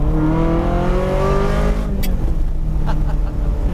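A Ferrari engine fitted with straight-pipe exhaust revs loudly up close, its harmonic tone climbing then dropping away, followed by lower idle burble with a few sharp pops.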